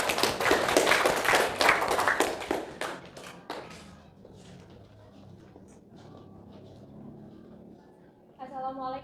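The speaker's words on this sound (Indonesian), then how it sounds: "Tepuk tangan untuk kelompok 1." Classroom applause for a student group during a lesson: a burst of many hands clapping close by that fades after a few seconds into quieter room noise with faint voices.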